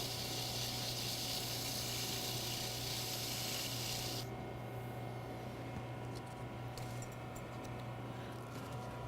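A wooden Christmas ornament being sanded as it spins on a lathe: a steady mechanical drone with a dry rasping rub that cuts off halfway, leaving the lathe's duller hum alone.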